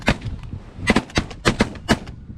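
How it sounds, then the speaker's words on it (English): Shotguns fire during a goose hunt, roughly six loud, close blasts coming in quick uneven pairs and singles with no talking between them. "Shoot them straight up, guys!"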